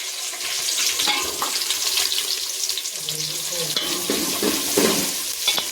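Chopped onions with green chillies fry in oil in a pan, a steady, fairly loud crackling sizzle that runs without a break, with faint stirring and clatter mixed in.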